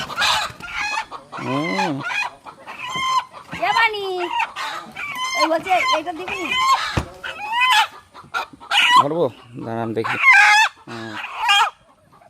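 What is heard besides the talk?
country rooster (desi chicken) clucking and crowing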